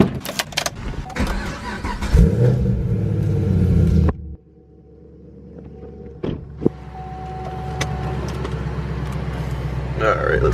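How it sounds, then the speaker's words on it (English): Chevrolet Camaro ZL1 in a garage, its engine revving loudly, then cutting out. After a pause with brief clunks, the engine idles low and steady. A voice is heard over the first part. "I'm gonna move the ZL1 out of the way"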